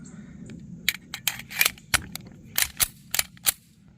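A Dan Wesson TCP 9mm 1911 pistol fires about ten sharp, cracking shots in quick, uneven succession at an outdoor shoot, heard from some distance over a low background hum.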